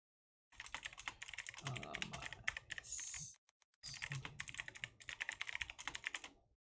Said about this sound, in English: You're hearing probably both the clicking of my keys and like the typewriter